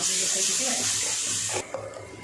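Water pours into a cooking pan in a steady rushing stream for about a second and a half while making chicken gravy, then cuts off, leaving a quieter tail.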